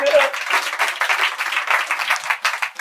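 A church congregation claps for the Lord during a worship service, dense rapid handclaps swelling and pulsing for a few seconds with voices mixed in among the clapping.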